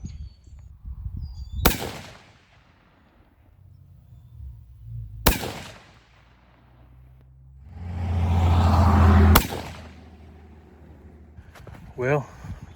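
Three sharp, loud rifle shots from a 7mm-08 firing Winchester Ballistic Silvertip factory ammunition, spaced a few seconds apart with a rising rumble before the last, plus a faint click near the end.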